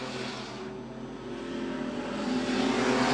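Street stock race cars battle at a speedway in a Collie versus Bunbury scratch match, an EL Falcon among them, their engines droning steadily from a distance and swelling louder as they approach.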